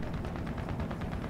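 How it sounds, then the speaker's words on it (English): Machine guns rattle in a tank video game, a rapid, continuous stream of distant-sounding bursts with steady rhythmic pulses, heard alone without talk. "I hear 2 machine guns at least."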